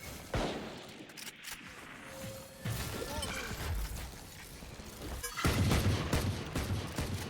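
Gunfire in the tactical shooter Valorant during a competitive esports match: repeated bursts of rifle shots and sharp cracks, loudest in a dense volley near the end, over game ambience with no talk.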